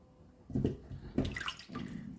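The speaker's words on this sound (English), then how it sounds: "And I wash my banana." Bananas being washed by hand in water in a Jamaican country kitchen: a few short splashing, sloshing bursts close by, with brief pauses between them and no talk.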